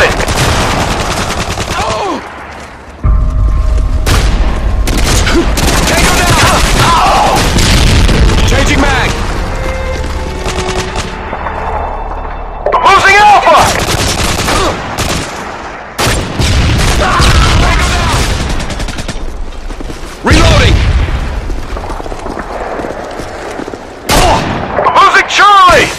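Explosions and gunfire from a Call of Duty online multiplayer match, with loud booms and bursts of machine-gun fire that keep recurring across the clip. Radio-style voice announcements come and go over the combat.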